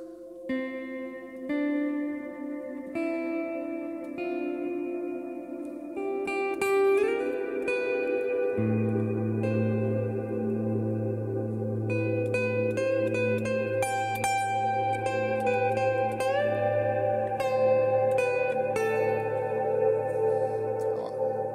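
An electric guitar plays through a Strymon BigSky reverb pedal on its default settings. Sustained notes and chords bloom into a long, washy reverb tail that fills the space and swells steadily louder, with no voices present.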